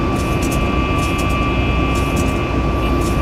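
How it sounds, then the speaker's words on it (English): Boeing 737 Max 8 engines in the X-Plane 12 flight simulator, a loud continuous jet roar with a steady high whine, unbroken across the whole stretch. "You can hear those Max 8 engines just screaming"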